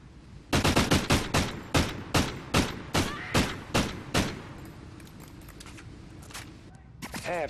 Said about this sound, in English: You just laid them bullets down.